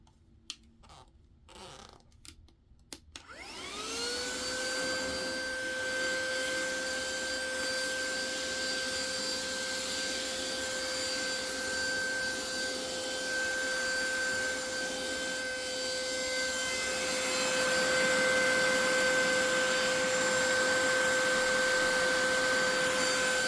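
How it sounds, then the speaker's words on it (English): A few handling clicks and knocks, then a small vacuum cleaner whirs on over carpet with a high steady whine that continues and grows slightly louder. "Turning on my little Temu vacuum."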